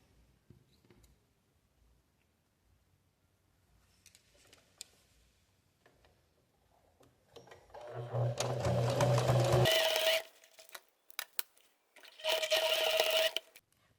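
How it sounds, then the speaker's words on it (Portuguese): A sewing machine stitches fabric for a zippered pouch in two loud, fast whirring bursts, separated by quiet handling of fabric and pins, with brief soft speech earlier. "E passar uma costurinha aqui, ó, de menos de um pé de máquina, aqui na ponta, dos dois lados."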